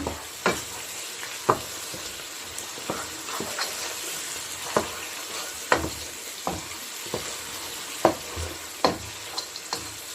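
Homemade spice masala frying in a pan for aloo gosht, with a steady sizzle broken by frequent sharp spoon clicks and scrapes against the pan, close and fairly loud, with no talking.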